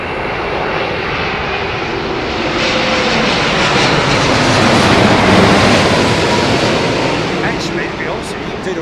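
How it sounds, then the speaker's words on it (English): A Vietnam Airlines Boeing 787 Dreamliner comes in to land at Heathrow Airport, its loud jet engine roar swelling as it passes close overhead and then easing off, a broad steady rush with no voices. "this is Vietnam's Dreamliner, isn't it?"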